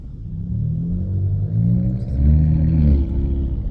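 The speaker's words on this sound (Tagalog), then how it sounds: "Kita mo yun oh, yung sasakyan na pwede pang dagat." An amphibious vehicle that can also go in the sea, driving past on a San Diego street, its engine a deep rumble with tonal harmonics that swells and shifts as it accelerates.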